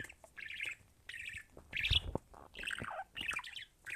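Bright, chirpy bird calls from the video game Granny 3 come in short repeated bursts, fairly close, with a few soft thumps in between.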